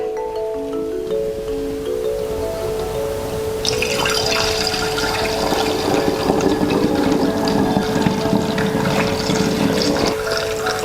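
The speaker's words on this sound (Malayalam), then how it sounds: "നല്ല കഴുകി ഉണക്കിയ കുപ്പിയിലേക്ക് നമുക്ക് ഒഴിച്ചെടുത്ത് വയ്ക്കാം." Homemade rice wine made from ration rice being poured into a washed, dried bottle, a continuous close splashing trickle of liquid over a steady background hum.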